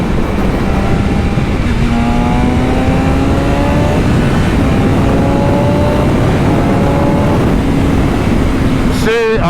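New BMW S1000RR motorcycle on the move, engine climbing through the gears toward a restricted 8,000 rpm rev limiter, rising tones repeating over steady loud wind roar, with someone talking throughout.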